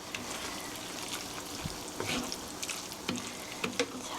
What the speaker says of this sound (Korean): 이렇게 해서 소스가 잘 묻도록 이렇게 고루 버무려 주시고요